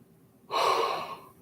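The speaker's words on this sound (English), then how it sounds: "I've just been yawning all day today" A person yawns once, a sudden breathy open-mouthed exhale that swells and then tapers off over about a second, close and fairly soft, with no speech.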